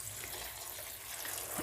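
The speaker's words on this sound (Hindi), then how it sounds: "ये नल के नीचे रख दिया मैंने और इसको मैं अच्छे तरीके से धो लूँगी" Boiled chickpeas are rinsed under a running kitchen tap, a steady, dense splashing rush of water that continues throughout without speech.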